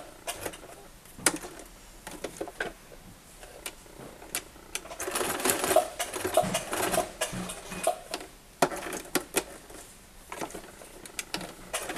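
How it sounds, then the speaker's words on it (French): A domestic sewing machine stitches a seam on fabric for a washable-wipes basket, with bursts of rapid mechanical ticking and whirring separated by pauses. The stitching is heard close up and fairly quiet, with no talking. "je vais venir finir la couture avec un point d'arrêt"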